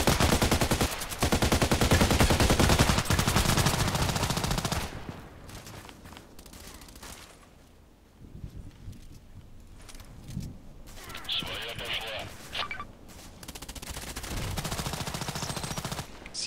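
Automatic weapon fire in the online shooter Contract Wars: loud continuous bursts of rapid shots for several seconds, then a lull with scattered clicks and further bursts returning toward the end.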